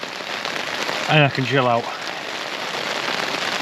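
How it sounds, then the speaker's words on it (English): Heavy rain falling steadily over an abandoned quarry campsite, a constant broadband hiss of drops on surfaces throughout, with someone speaking briefly in the middle over it. "Listen to that rain, people, listen to that rain."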